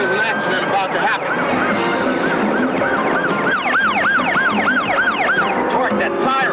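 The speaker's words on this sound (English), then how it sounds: "that siren. Yeah, it's aiming right at us." A loud siren wails in repeated rising and falling sweeps, growing stronger partway through, over a dense wash of traffic and engine noise.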